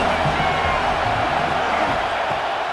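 A stadium crowd roars in a steady, loud wash of cheering at a college football game between New Mexico and Michigan in the College Football 26 video game, with commentary voices faintly underneath.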